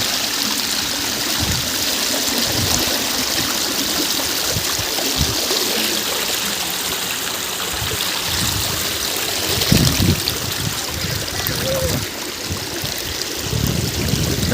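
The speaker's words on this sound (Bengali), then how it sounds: "আপনি দেখুন পানির স্রোতটা এবং শব্দটা শুনুন।" Water current rushing across a flooded road in Chalan Beel, a steady loud gushing flow with irregular splashes and a brief louder surge near the end, no talking.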